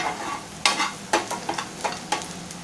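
Samosa filling being stirred and sautéed in hot oil in a pan, a soft sizzle under repeated scraping strokes of a spoon, each stroke a short rasp in a loose rhythm, close and alone.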